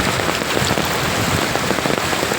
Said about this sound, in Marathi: खूप वेगाचा असा पाऊस वगैरे खूप जोरदार पडतो आहे.